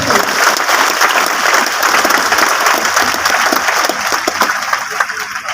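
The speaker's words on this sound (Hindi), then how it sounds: "हमारे great personality mister Jitesh Agarwal sir के लिए जोरदार तालियां" Loud, dense audience applause at a motivational seminar hall, sustained clapping from a large crowd that thins slightly toward the end.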